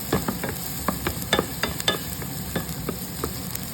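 Garlic fries in a pan with a steady low sizzle, broken by scraping stir strokes and light clinks of a utensil against the pan, close and fairly loud with no talking.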